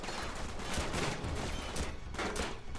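Rapid, continuous gunfire from a firefight in Uncharted 3 crackles densely with shots overlapping throughout, fairly distant and muffled at low level.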